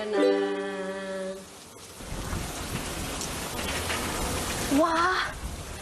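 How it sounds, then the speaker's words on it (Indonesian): Steady rain falls with a constant hiss and patter, following a brief musical tone at the start, and a short voice-like chirp rises above the downpour near the end. "Wah, masih hujan teman-teman."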